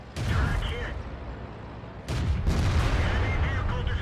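Heavy tank cannon fire in World of Tanks, two booming blasts about two seconds apart, each followed by a rolling rumble over continuous engine and battle noise.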